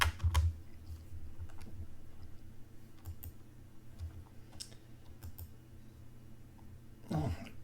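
Mouse clicks and scattered key taps at a computer, sparse and fairly close, with a low hum beneath and a louder burst of handling noise near the end.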